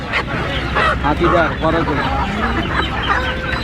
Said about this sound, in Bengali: এখানে এক কাকা কিছু দেশি মুরগি নিয়ে আসছেন